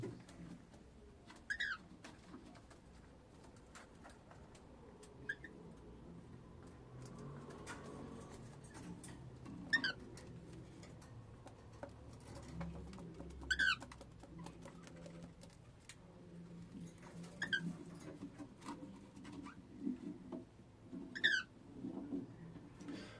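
Cockatiels and budgerigars in a balcony aviary give short, scattered chirps and whistles every few seconds over a low, murmuring background.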